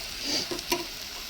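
Potatoes and spices fry in a pan in a village kitchen, giving a soft, close sizzle with brief scraping stir sounds in a short burst.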